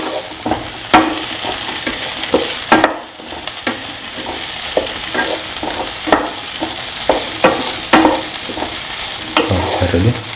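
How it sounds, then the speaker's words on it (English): Beans and other ingredients sautéing in a pan, a steady sizzle broken by frequent sharp scrapes and clacks of a spoon stirring, close and fairly loud with no talking. "Keep on sauteing."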